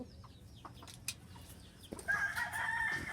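A rooster crows loudly and close by in a farm yard with laying hens, the long drawn-out call filling the second half after scattered clucks and chicken noises.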